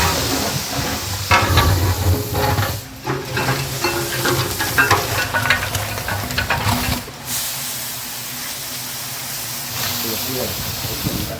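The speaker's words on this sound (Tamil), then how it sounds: "இப்போ அடுத்து நம்ம தக்காளி ஆட் பண்ண போகிறோம்." A large pot of Dindigul-style seeraga samba biryani, about 40 kg, as tomatoes go in over browned onions, mint and chilli powder: loud, continuous sizzling and hissing with scraping stirs, frying broken briefly as ingredients are added, with background voices.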